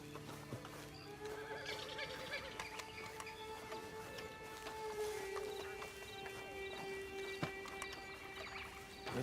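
A horse whinnies in Red Dead Redemption 2, drawn-out neighs with clip-clopping hooves over a steady game ambience, fairly faint and with little talk.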